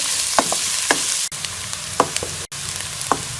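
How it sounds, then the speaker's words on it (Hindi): Steady sizzling of onions frying in a pan, with occasional stirring scrapes and a couple of brief dropouts, no talking. "तो हल्का सा प्याज को सॉफ्ट होने तक हम इसको फ्राई कर लेंगे।"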